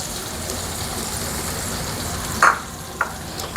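Ground spice paste fries in oil for doi potol, a constant crackling sizzle with two brief clinks of a utensil toward the end.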